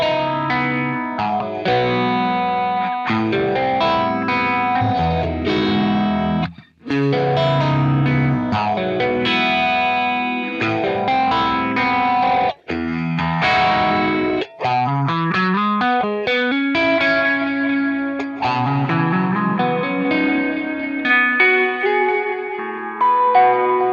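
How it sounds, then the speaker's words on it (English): Electric guitar played through a Kemper profiler with a phaser effect, loud and continuous riffing with sustained chords and a sweeping, swirling filtered tone, distorted and echoing, with brief gaps between phrases. "Now we'll put a little phaser on here."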